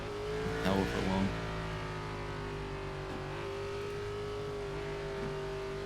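A Xfinity/Nationwide stock car engine in a racing video game holds a steady, fairly quiet drone with a faint rise in pitch, a brief busier burst early on.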